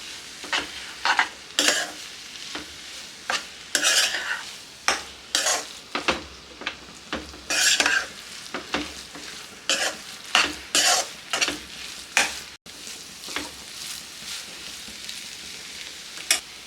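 A spoon scrapes and stirs eggs into Maggie noodles in a sizzling frying pan, giving an uneven run of close, clattering strokes over a steady frying hiss, with no talking.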